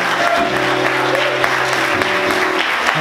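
Church congregation applauding during a Sunday morning service, a continuous broad clapping from many people with a low sustained musical tone underneath throughout.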